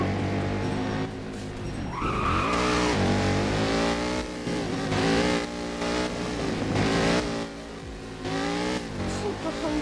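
Car drifting in the Driving Empire video game, a sustained engine roar with skidding tire squeal rising and falling over about ten seconds, loud and continuous, with some talk mixed in.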